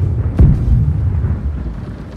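A ship's cannon fires in the naval combat game Blackwake, giving one deep, close boom that rumbles and fades over about two seconds.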